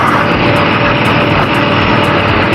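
Ducati Desert X motorcycle engine pulling away again on an off-road dirt trail in Tuscany, a loud, steady, broadband drone with a continuous hum that holds constant throughout, with no talking.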